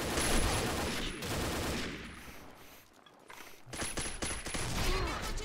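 Rapid gunfire from an SG50 shotgun in the online shooter Combat Arms, dense bursts of loud blasts that fill most of the clip, dip briefly in the middle, then resume just as hard.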